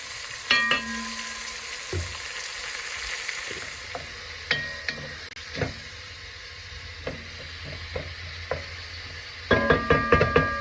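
Onion and garlic fry in a pan as the base of a potato soup: a gentle, fairly quiet sizzle punctuated by scattered spoon knocks and scrapes, ending in a quick burst of stirring clatter.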